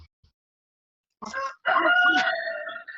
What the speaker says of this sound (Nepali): अन्त कस्तो कुखुरा बासिरहेको छ